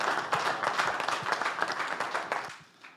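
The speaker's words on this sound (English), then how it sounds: "A round of applause as he takes the podium." Audience applause at a health tech investor summit as a speaker takes the podium, dense rhythmic clapping from a crowd that tapers off into a few scattered claps near the end.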